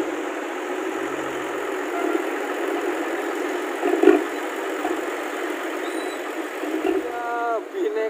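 A bus engine with a race-type exhaust rumbles steadily with a throaty note, rising briefly now and then, heard from inside over general road noise.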